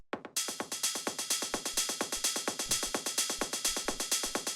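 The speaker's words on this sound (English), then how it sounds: "the last layer that we have in here is this delay send, which sounds like this." A steady stream of percussive hits with echoing repeats, a techno kick and open hi-hat fed through a delay send and smeared into a rapid, rhythmic delay pattern, loud and continuous with no voices.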